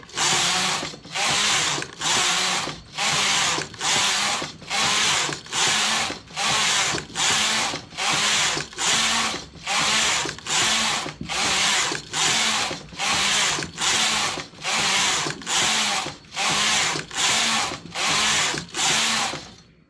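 A hand-operated knitting machine knitting rows of a hat, its carriage sliding back and forth in a steady rhythm of about twenty regular strokes, each a loud mechanical rasp with brief pauses between.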